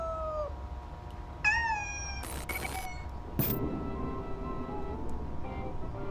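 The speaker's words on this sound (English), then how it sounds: "It looks like this kitten is in big trouble." A kitten in the horror video game Amanda the Adventurer meows several times, high and wavering, over a steady game background hum, with a couple of brief louder effects between the cries.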